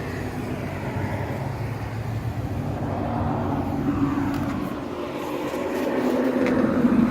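A Harbor Freight 3500 generator with a good shroud around its motor runs steadily and fairly quietly, a constant low hum and drone with no pauses.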